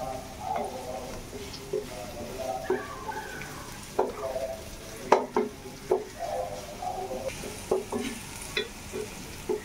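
Vegetables stir-fried in a pan, a soft sizzle under intermittent clinks and scrapes of a spatula against the metal, close by and fairly quiet.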